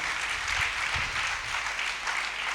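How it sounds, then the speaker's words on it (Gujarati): Audience at a Guru Purnima gathering breaks into steady, continuous applause, a dense wash of clapping that holds at an even level for a few seconds without a break. "એને આપણે એક જોરદાર તાળીઓથી બિરદાવીએ"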